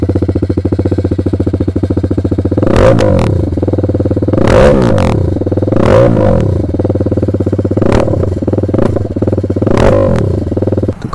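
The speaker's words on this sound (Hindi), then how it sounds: "तो अभी मैं एक बार आपको स्टार्ट करके सुना देता हूँ एग्जॉस्ट साउंड।" A TVS Apache RR 310 fitted with an SC Project exhaust idles in neutral close by, a loud, deep, steady burble broken by short throttle blips about every two seconds.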